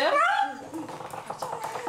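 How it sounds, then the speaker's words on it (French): A dog gives a high, wavering whimper at the start, followed by softer whining mixed with quiet background voices. "Le chien, c'est Buster."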